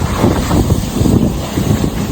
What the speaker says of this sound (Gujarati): મસ્ત વરસાદ ચાલુ થઈ ગયો છે ઝીણો ઝીણો અને પવન ફૂંકાય છે ભાઈ ગજબ નો